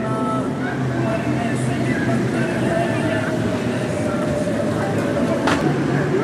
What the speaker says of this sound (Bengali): এটা হচ্ছে ট্রেন, বাচ্চাদের খেলার ট্রেন।